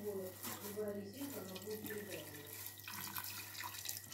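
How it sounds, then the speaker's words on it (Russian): Tap water pours onto meat marinating for shashlik, a soft, close splash and trickle that runs steadily for a few seconds at low volume, with someone speaking over it. "Давайте добавим еще немножечко совсем воды."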